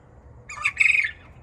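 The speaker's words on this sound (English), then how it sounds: "Hear those quail?" Two short, harsh squawking calls from quail on a farm in spring, fairly close, over quiet low background noise.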